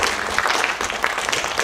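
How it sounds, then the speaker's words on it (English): Audience applause at a youth empowerment foundation's annual awards ceremony, a dense steady patter of many hands clapping without pause, close and fairly loud. "give everybody a warm round of applause and congratulations"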